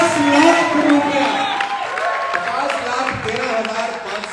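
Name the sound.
audience applause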